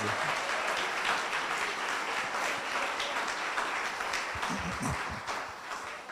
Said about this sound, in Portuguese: Aplauda o Senhor, porque Jesus faz obra maravilhosa